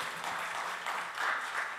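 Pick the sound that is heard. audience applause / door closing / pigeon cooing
audience applause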